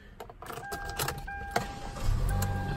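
A 2014 Hyundai Elantra started with a key: a few clicks and a short chime, then the brief starter crank and the engine catching into a low idle near the end, heard close inside the car with no talking.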